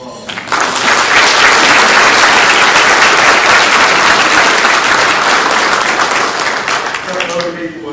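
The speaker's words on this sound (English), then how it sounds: "If you would, give these people a round of applause." Sustained applause from a banquet audience at a STAR awards banquet in Pickens County, Georgia, loud and dense for about seven seconds before tapering off, with a voice starting to speak at the end.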